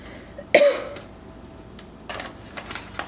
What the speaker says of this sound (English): That is a seasoning cough.